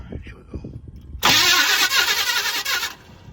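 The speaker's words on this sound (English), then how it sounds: "she spins well. Starter is crying, but it sounds like it needs to be shimmed" A 1971 Monte Carlo starter cranks with the ignition bypassed. A voice talks briefly, then a loud, sudden whirring grind of the starter spinning the engine runs for about two seconds and fades.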